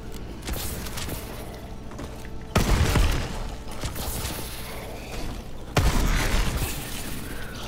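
Steady gunfire in Call of Duty Advanced Warfare EXO zombies, with continuous rapid weapon fire and a couple of louder booming bursts, dense and close, without talking.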